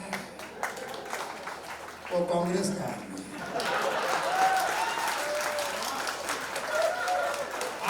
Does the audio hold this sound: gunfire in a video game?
no